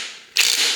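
A Yamaha YZ450F transmission clunks into first gear during a bottom-end teardown, a single sharp mechanical clack followed by a brief metallic ratcheting rasp, close and loud.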